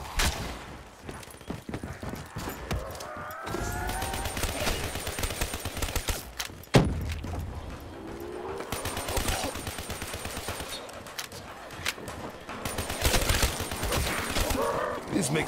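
Rapid gunfire fills Black Ops 3 Zombies splitscreen play on the Shi No Numa map, loud bursts and automatic fire mixed with game effects, with people talking over the shooting.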